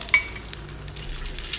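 Salted fish frying in oil in a pan gives a soft, steady sizzle close by, with a light metallic clink of a utensil at the start.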